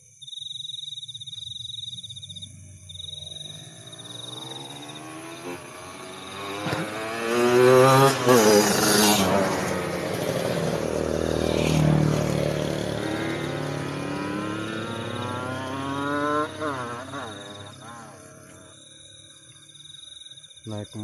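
Motorcycle engines rev and roar past on a road at night near a highway rest area, rising and falling over steady insect chirping, with loud passes building in the middle.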